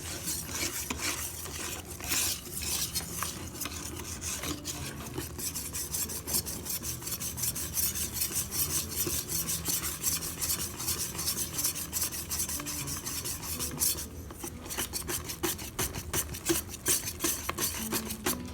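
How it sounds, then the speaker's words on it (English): A whisk beats cake batter in a bowl for a New Year's cake, a steady fast rasping and scraping rhythm that runs continuously and loud up close, with no talking. "But until then, we'll use the whisk."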